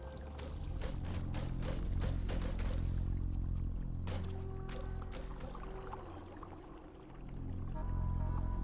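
In the roguelike video game Caves of Qud, water splashes and trickles around a character standing in it, heard as a steady liquid wash with faint, brief pouring sounds.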